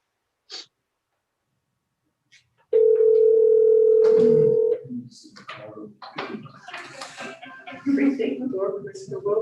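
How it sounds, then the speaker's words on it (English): A telephone dial tone hums steadily for about two seconds while a caller is being dialed in during a council meeting, followed by shuffling, breathing and quiet voices talking nearby. "Karen, we're trying to call you on."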